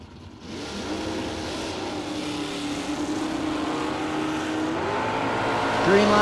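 A drag race car, among them a Camaro Roadster, launches down the strip with a loud engine roar that rises in pitch and builds in volume as it pulls away, with an announcer's voice over it.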